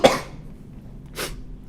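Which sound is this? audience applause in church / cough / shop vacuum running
cough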